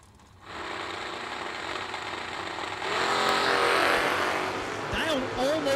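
A Mustang and a Duster drag racing at the IHRA World Finals roar off the line, a loud sustained engine blast that swells in volume, while an announcer talks over the noise.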